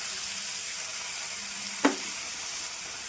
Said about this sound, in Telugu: టమాటాలు వేస్తున్నాను.